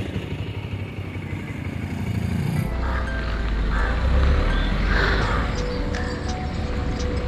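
A motorcycle rides along a road in Goa, the engine droning steadily with rushing wind noise, rising in volume partway through as the rider speeds up.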